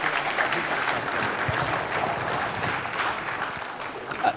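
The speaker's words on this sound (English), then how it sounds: "give her a round of applause" A town hall audience claps steadily for a few seconds with dense, even applause that fills the room, and a few voices are faintly heard underneath.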